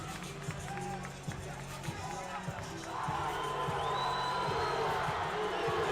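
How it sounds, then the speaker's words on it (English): Spectators on the pool deck cheer continuously at a Tennessee high school state swimming championship final, a distant, echoing roar that swells louder midway through a close race, with a commentator talking over it. "Lots of cheering going on down on the deck."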